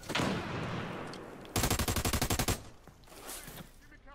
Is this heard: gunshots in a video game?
yes